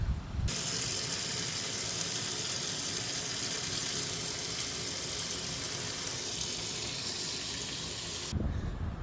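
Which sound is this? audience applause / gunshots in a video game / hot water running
hot water running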